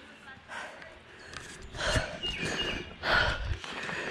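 Heavy, labored breathing from a hiker climbing a steep trail in Oak Ridge, Tennessee, coming as close puffs and gasps in uneven bursts with soft outdoor background.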